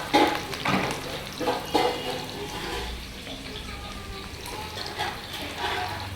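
Chopped onion and green chilies fry in a pan for a mutton boti gravy, a moderate sizzle mixed with stirring and a few clatters, some watery noise, and no clear talk.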